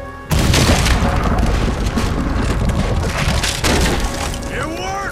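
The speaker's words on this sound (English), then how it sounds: "Fire the cannon." In Red Dead Redemption 2, a cannon fires with a sudden loud boom, followed by cracking and splintering as a wall breaks apart and debris crashes down, with voices under the roar.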